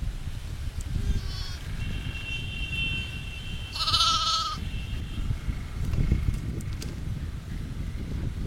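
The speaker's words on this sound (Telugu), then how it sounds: "ఇవైతే గొర్రె పిల్లలు మొత్తం చూస్తున్నారు కదా" Lambs and goat kids penned on a village farm let out a clear bleat near the middle, with fainter calls around it. Steady wind noise rumbles across the microphone throughout.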